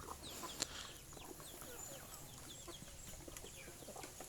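Black broiler chickens cluck in a series of soft, short calls, with scattered higher chirps over a quiet farmyard background and no talking.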